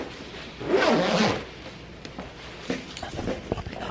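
A puffy jacket is zipped up in one quick, close, raspy pull, followed by faint rustling of the fabric and small handling noises.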